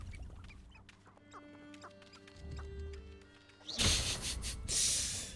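Chickens clucking in the video game Hogwarts Legacy, faint squawks and clucks scattered over a quiet music bed, followed by a louder rushing noise near the end.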